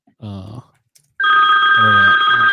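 A mobile phone rings with a loud electronic tone, bursting in after a brief pause, while a voice talks over it in a live theatre show.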